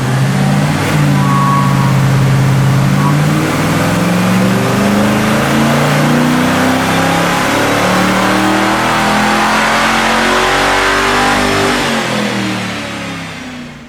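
A car engine revs hard on a chassis dynamometer, its loud sustained note climbing steadily in pitch over many seconds before easing off at the end, with no talk over it.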